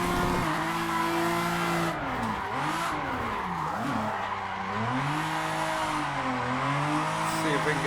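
A Toyota Supra drifts after a clutch kick in Assetto Corsa, its engine droning and swooping in pitch under continuous tire squeal, loud and close throughout.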